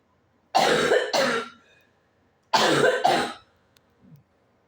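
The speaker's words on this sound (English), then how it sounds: "why am I coughing?" A person with a cold coughs in two close pairs of harsh coughs separated by a short pause, with a faint throat sound afterward; near and fairly loud, no talking.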